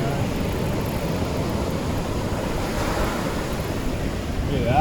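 Steady wind gusting across a California beach during surf fishing, mixed with the constant wash of breaking surf, a loud, unbroken roar that holds level and swells slightly at the very end.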